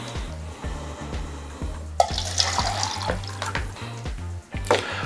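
Water runs from a tap during clay sculpting, a steady splashing rush over a repeating low mechanical hum and a few clicks and knocks.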